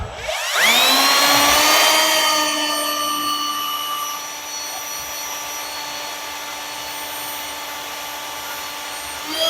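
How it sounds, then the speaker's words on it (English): A power drill spins up with a rising whine and then holds a steady, loud motor tone while boring a small pilot hole during fabrication of a lift kit for a Mazda Miata NB. "I always do a pilot, really tiny little hole."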